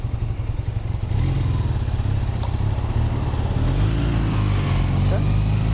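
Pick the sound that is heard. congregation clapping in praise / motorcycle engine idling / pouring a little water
motorcycle engine idling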